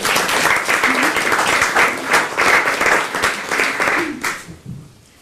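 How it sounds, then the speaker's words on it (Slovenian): Loud applause from a crowd, steady clapping that fades out near the end. "En aplavz za našo Polono"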